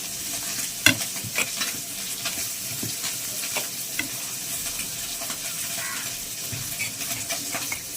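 Food being stirred and mixed in a frying pan, continuous sizzle with repeated scraping and clattering strokes of the spatula, close and steady throughout.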